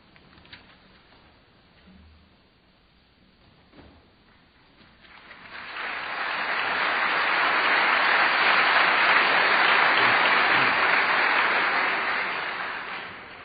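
Applause from a debate audience swells after a few quiet seconds, building into sustained, steady clapping that fills the hall and then slowly tapers at the end.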